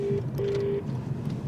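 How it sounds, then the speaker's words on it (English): A phone rings in a podcast recording inside a moving car, a steady electronic tone repeating in two bursts against a constant low road rumble, with no talk over it. "The phone is ringing."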